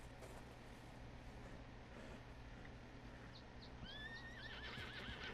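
An agitated horse in Red Dead Redemption 2 lets out a shrill, wavering neigh near the end, set against a steady low outdoor ambience with faint hoof movement and quiet birds.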